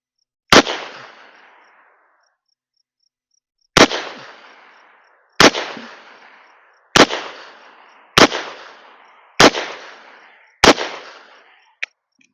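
Six sharp gunshots from a Taurus Model 66 revolver with a 6-inch barrel, fired at a target 21 feet away, come at a slow, uneven pace, each loud crack followed by a brief decaying ring.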